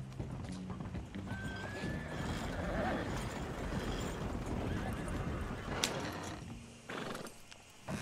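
A horse in the video game Red Dead Redemption 2 whinnies over steady clip-clop of hooves and a busy background, fairly close, with a short snort near the end.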